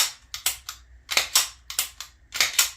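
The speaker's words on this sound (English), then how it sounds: "you wanna cock it back quite a few times" The slide of a Canik TP9DA pistol is racked back repeatedly after cleaning, giving sharp metallic clacks in quick pairs, about four cycles, close and crisp with nothing else heard.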